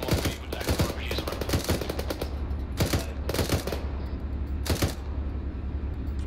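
Sustained automatic gunfire in a military video game rattles in rapid bursts, with several louder volleys standing out from the continuous chatter of shots and a low rumble underneath, and no speech.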